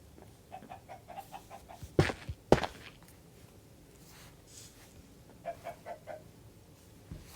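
Minecraft chickens clucking in a crowded pen in the video game, short repeated clucks in irregular bursts with two louder sharp sounds, no talk.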